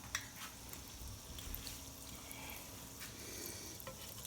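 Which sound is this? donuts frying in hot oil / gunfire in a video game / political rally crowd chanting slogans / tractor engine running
donuts frying in hot oil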